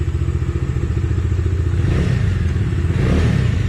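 A Bajaj Dominar 250 BS6 motorcycle engine idles with a steady low throb, then revs up twice in quick surges before settling back, close to the microphone.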